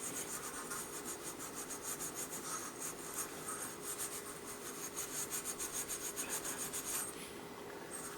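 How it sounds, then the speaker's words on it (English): Coarse steel wool scrubbing the end of 1/2 inch copper tubing, a steady, close, continuous rasping rub with a quick rhythmic back-and-forth texture throughout, no voices. "you just use some coarse steel wool like this, and make sure it's really good and clean"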